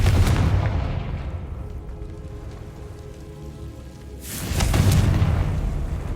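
Confringo spell explosions in the video game Hogwarts Legacy: a loud rumbling blast that fades into a crackling tail, then a second heavy boom a few seconds later, with no talk.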